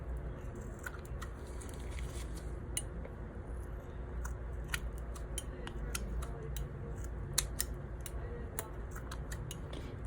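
Scissors trim the edge of a silicone rubber mold, giving a steady run of small crisp snips and ticks, close and fairly quiet, over faint background noise.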